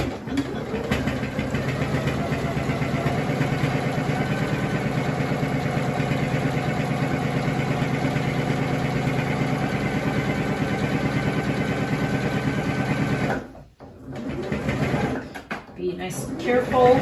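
Sewing machine stitching a fabric face mask at a quarter-inch seam, a steady close whirring hum running continuously before stopping with a few short bursts and clicks near the end.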